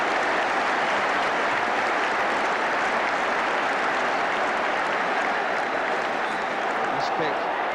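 A football stadium crowd roars through a 1979–80 FA Cup semi-final between Everton and West Ham, a loud, dense, unbroken wash of massed voices and noise, with commentary over it.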